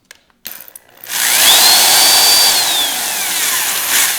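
A power drill turns a blade bit into a floorboard workpiece for a 650 V-Star motorcycle, a few brief taps and then a steady high whirring drill spin lasting several seconds, close and loud.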